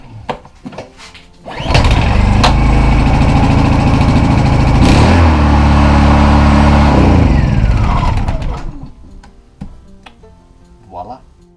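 A small boat generator engine cranks and catches, then runs loud and steady for about six seconds before shutting down. Brief clicks and handling noises come before and after it.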